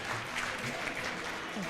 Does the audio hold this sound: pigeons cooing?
no